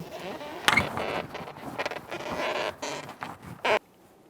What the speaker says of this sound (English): We're going to press the brake pedal all the way to the floor and hold it there with something such as a pry bar.